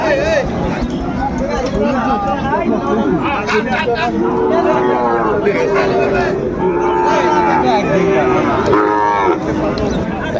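Sahiwal bull calves and cattle low with long, drawn-out moos at a busy livestock market in Dinajpur. The lowing is loud and close, layered over dense crowd chatter and people talking throughout.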